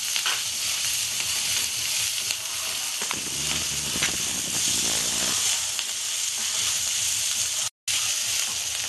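Onion and ginger fry in a pan for a Bengali-style soybean and spinach curry, sizzling with a steady bright hiss. A stirring stretch in the middle churns the sound, and a brief silent gap comes near the end.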